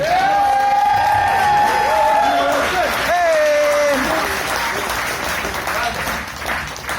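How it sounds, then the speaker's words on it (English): Loud applause and cheering from a wedding reception crowd honoring the bride and groom's parents, with whoops and shouted voices rising over steady clapping. "How about a round of applause for Skip and Lori and my second parents, Jack and Kathy"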